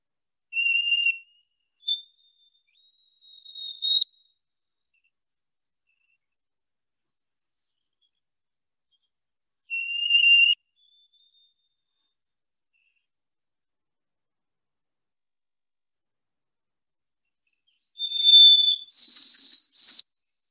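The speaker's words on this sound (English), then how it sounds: "the white-throated sparrow is indeed singing, oh, sweet Canada" A white-throated sparrow sings its clear, high whistled phrases: a pure held note stepping up to another, repeated after long silences, ending in a denser burst of sharp whistled notes, alone and fairly close.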